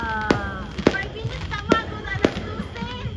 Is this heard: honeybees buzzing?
no